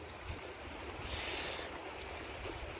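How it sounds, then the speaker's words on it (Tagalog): Strong, cold wind blows at a waterside fishing spot near a lit building, a continuous close buffeting roar with a brief gusty swell in the middle and no voices. "Mahangin guys, sobrang hangin."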